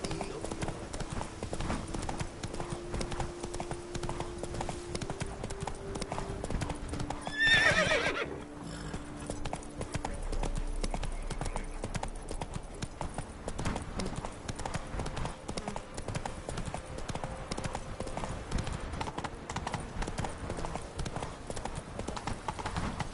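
Horse hooves clip-clop steadily in a video game, with a whinny partway through, over a constant game background and occasional voices.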